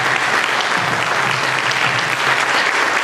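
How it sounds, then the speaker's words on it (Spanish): An audience at a school ceremony swearing in child comptrollers gives a full, even round of applause, a thick continuous clatter of many hands with no pause across the few seconds. "Un gran aplauso para ellos para comenzar a hablar."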